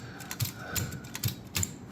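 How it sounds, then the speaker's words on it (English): Keys struck on a Corona 3 folding typewriter, a close, dry run of about five or six spaced clacks in an irregular rhythm, each a short sharp strike over a quiet background. "as I typed on the typewriter."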